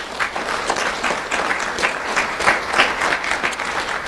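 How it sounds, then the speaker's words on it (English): A school event audience claps in sustained, dense applause, steady and close throughout with no voices over it. "Let's give them a round of applause."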